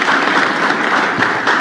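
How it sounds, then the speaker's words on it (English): A crowd at a live public forum breaks into dense, continuous applause, loud and close, as panel members come onto the stage. "A round of applause,"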